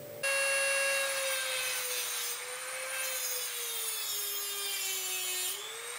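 A Dremel rotary tool cuts a slot into a screw during knife-handle work, giving a steady, high, close whine that holds for about five seconds with slight pitch dips as it bites, and no talk.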